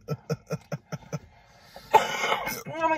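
A run of five or six sharp coughs in quick succession inside a restaurant, close and clear, followed by a louder noisy exhale and a brief vocal sound.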